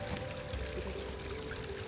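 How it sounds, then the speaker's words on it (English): Water trickles and burbles softly in a steady, continuous flow, close by, with a faint low hum underneath. "a trickling creek"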